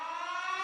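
A recorded air-raid style civil defense siren plays a steady, sustained wailing tone with strong harmonic bands, loud and continuous throughout with no speech.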